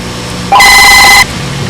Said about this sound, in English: because of phone calls ringing and everything, is taking a lot longer